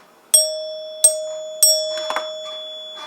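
A rebuilt 1930s NuTone Time-Chime two-note door chime strikes three clear, ringing tones with long sustained decay, close and alone, followed by a few softer mechanical knocks.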